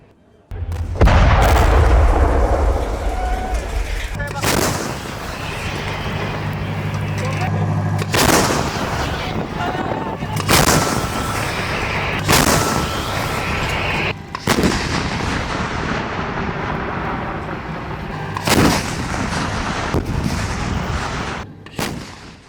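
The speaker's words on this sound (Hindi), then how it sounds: "टैंकों से निकले गोले बारूदी गदर मचा रहे हैं।" Israeli army tank cannons fire in a series of heavy booms, each a loud blast followed by a rumbling decay, repeating every few seconds over a continuous background roar.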